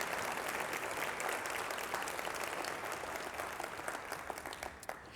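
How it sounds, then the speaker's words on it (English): Sustained applause from a school-event audience, dense and steady for several seconds before thinning and tapering toward the end. "How about another round of applause for New Tech and Betty?"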